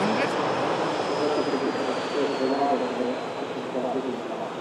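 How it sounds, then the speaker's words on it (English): An Embraer jet airliner departs the airport, a steady broadband engine roar held at one level throughout, with faint talk beneath it. "Now on the way out, we have Bismarck. This is the Embraer FriYAY 600."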